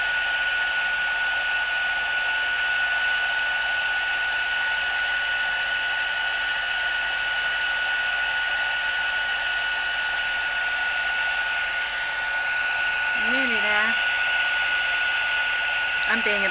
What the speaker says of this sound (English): I'm being a bit impatient and actually holding my heat tool a little bit too close